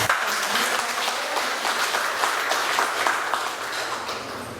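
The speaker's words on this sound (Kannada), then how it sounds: "ನಾವು ನೀವೆಲ್ಲ ಸೇರೋ ಚಪ್ಪಾಳೆ" An audience at a folk-arts program gives sustained applause, a dense, even roar of many clapping hands lasting several seconds without letup.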